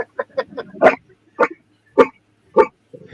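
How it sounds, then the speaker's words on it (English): A watchdog barks outdoors in a short series of sharp, fairly close barks, several quick small ones and then four louder evenly spaced woofs, with quiet pauses between them. "Hey, at least Dana's got a good dog, watchdog"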